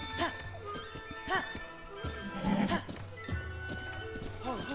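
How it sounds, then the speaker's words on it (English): Clip-clop hooves of a blue horse trotting in The Legend of Zelda: Breath of the Wild, a steady rhythmic gait with occasional snorts, set against game music and ambient sound. "You're a blue horse, which is weird"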